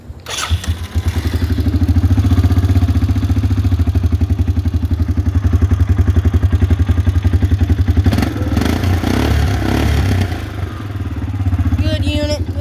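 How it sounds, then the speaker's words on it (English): A bagger motorcycle with about 5,229 miles cranks and fires, then settles into a loud, steady thumping idle with a brief rev and clatter near the end. "I'll start this bagger up for you girls."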